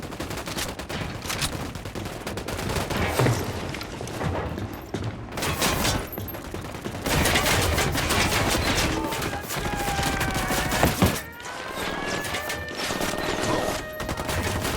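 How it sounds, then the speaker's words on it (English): Gunfire rattles through a firefight in the video game Ghost Recon Wildlands. Dense, loud bursts of automatic fire and single shots run almost without pause over a constant battle din. "I'm opening fire."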